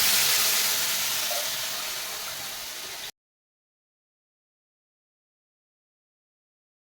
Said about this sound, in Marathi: हळद थोडीशी या मसाल्यामध्ये भाजून घ्यायची आणि आता लगेचच आपल्याला याच्यामध्ये ताक घालायचं आहे